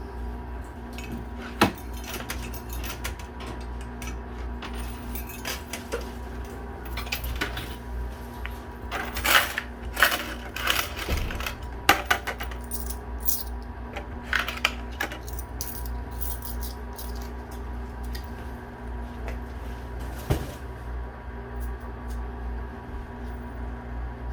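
Quarters clink and drop inside a coin pusher arcade machine with a football game theme, sounding as scattered light metallic clatters over a steady mechanical hum in a noisy arcade.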